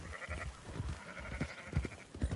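Sheep in Red Dead Redemption 2 bleat several times during a herding run, short wavering calls repeating over low rumbling hoof and movement noise.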